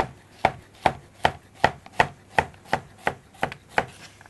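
A knife cuts squash into rounds on a cutting board, about eleven crisp evenly spaced chops in a steady rhythm, close and clear with no talking.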